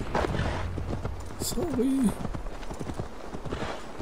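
Horse hooves clip-clop at a steady riding pace in the video game Assassin's Creed Valhalla, moderately loud, with a brief whinny-like call mid-way and someone speaking over it.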